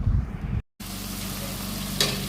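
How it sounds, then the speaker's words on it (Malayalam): Steady oil sizzle of sliced onions frying, continuous and close, with a brief silent cut near the start and a low rumble underneath. "2 സവോള ഞാൻ നീളത്തിലരിഞ്ഞ് അതും വറുത്ത് കോരി വെക്കുന്നുണ്ട്."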